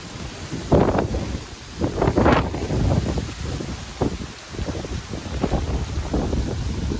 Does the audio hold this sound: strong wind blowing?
yes